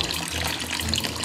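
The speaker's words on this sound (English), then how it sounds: "You're gonna let this run until out of the concentrate tube, all the green liquid," Tap water runs steadily out of the concentrate tube of a portable reverse osmosis filter, a constant close hiss of flowing water with no pauses.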